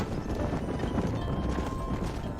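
Horse hooves galloping while herding cattle in the video game Red Dead Redemption, a steady, dense patter of hoofbeats over a continuous rumbling background, with no clear gaps.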